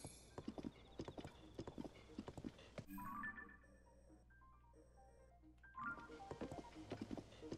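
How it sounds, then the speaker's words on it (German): Horse hooves clip-clopping in Zelda: Tears of the Kingdom, a run of quick rhythmic hoofbeats, a brief pause with soft chimes, then the hooves resume, fairly close and clear without talk. "Hier haben wir noch ein paar Pferde."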